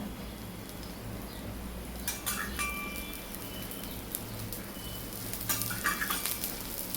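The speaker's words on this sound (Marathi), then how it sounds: "आता आपण थोडंसं साईडने असं तेल सोडूया" Oil sizzling in a pan around a frying mixed-flour dhirde, a steady close crackle with brief louder spits and light utensil clinks.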